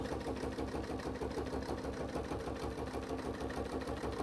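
A sewing machine stitching with rayon thread on top and a bobbin-fill thread below runs at a fast, even pace, its needle giving a rapid regular mechanical chatter that stays close and continuous with no talk.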